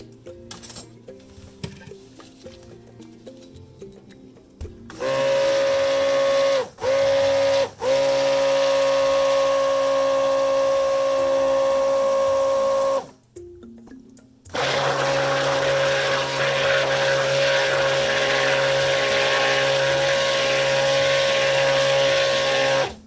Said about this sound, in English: go ahead and stick blend it just a little bit